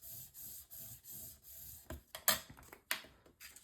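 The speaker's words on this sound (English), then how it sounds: "And then I'll burnish this down." Paper burnished down onto adhesive on a craft mini album page: rhythmic soft rubbing strokes at first, then a few sharper scraping and tapping sounds, all close and quiet.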